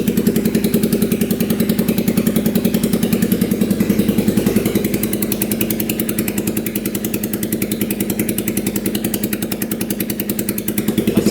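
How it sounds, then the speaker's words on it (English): A used UTV engine idles steadily close by, a rapid even chugging pulse with a mechanical clatter running throughout, no knocking and no voices. "Engine sounds pretty decent."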